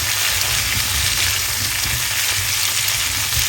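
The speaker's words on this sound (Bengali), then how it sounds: "দিয়ে ভালো করে নাড়াচাড়া করে নেন" Pumpkin pieces with a little salt stirred in a frying pan, giving a steady, loud sizzle with soft scraping underneath throughout, no voices.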